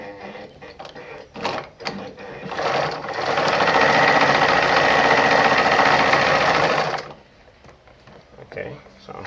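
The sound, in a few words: Brother ZU2-B680 sewing machine sewing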